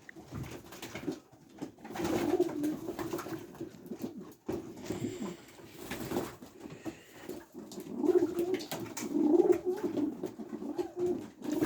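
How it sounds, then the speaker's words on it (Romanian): Pigeons bathing in lukewarm water in their loft compartments coo steadily in low, rolling phrases, close and moderately loud over light splashing and shuffling, with no talk. "Porumbei deja fac baie."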